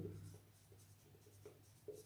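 Pen or chalk writing out a maths answer during a lesson, soft scratchy strokes in short irregular bursts, faint and close, with a low background hum.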